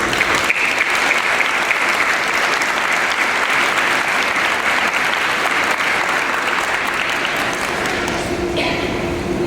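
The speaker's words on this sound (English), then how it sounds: "Graduates, let's take a moment to honor your friends and family by giving them a round of applause." A large crowd of law school graduates at a commencement ceremony applauds their friends and family, a loud, steady wall of clapping that holds for the whole stretch and begins to thin just at the end.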